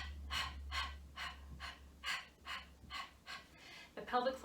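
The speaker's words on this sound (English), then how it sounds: "so huffing, and I want you to do that for about 3 minutes" Rhythmic huff breathing during a pelvic brace exercise: about nine sharp, breathy exhalations in a steady pulse, close and fairly soft, over a low background hum.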